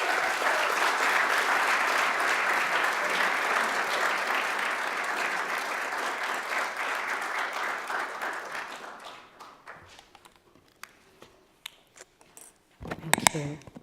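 An audience applauds to welcome keynote speaker Dr Chelsea Bond, dense clapping that holds strong for several seconds and then thins out to scattered claps, followed by faint handling noise.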